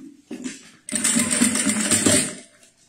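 A sewing machine stitching synthetic fabric for a small zippered pouch: a brief start, then a steady loud whirring run of about a second and a half that slows and stops, close up.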